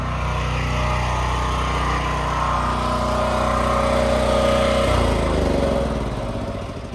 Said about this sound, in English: Go ahead and turn the generator off.